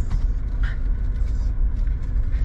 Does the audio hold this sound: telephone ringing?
no